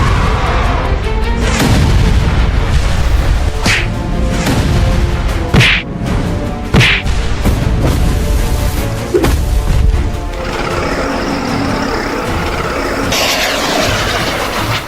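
Loud, rumbling cartoon missile blasts in an animated battle scene, a dense roaring barrage with several sharp booming hits, dying down into a lingering rumble.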